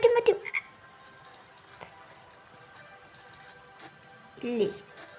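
A frog croaks in the survival video game Amikin Survival, with two short croaks, one at the start and one near the end, over a quiet game background.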